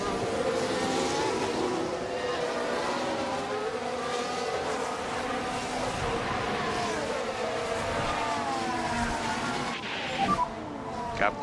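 A Formula 1 race car in F1 Manager 24 runs with an engine fault, its loud, steady, buzzing engine droning on continuously for several seconds before a brief shift near the end.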